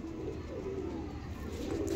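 Old-breed desi female pigeon cooing softly, a low murmuring coo heard faintly at a distance over steady background noise, with no talking.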